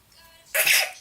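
A single sharp sneeze bursts out close by after a brief quiet moment, loud and breathy.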